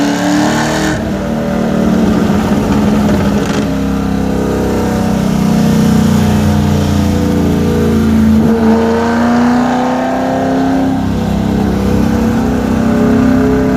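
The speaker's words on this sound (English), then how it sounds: "I will get some lovely engine noise here" A car engine revs loudly and close, climbing and falling in pitch through gear changes, with a throaty roar echoing around it.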